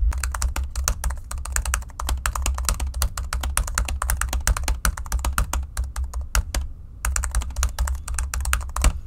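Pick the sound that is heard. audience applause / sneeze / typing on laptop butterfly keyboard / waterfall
typing on laptop butterfly keyboard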